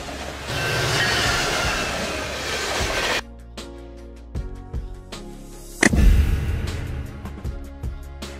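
Double-decker train running on rails, a loud continuous rumble at first, then rhythmic clickety-clack bursts from wheels on rail joints with a second swell of rolling noise.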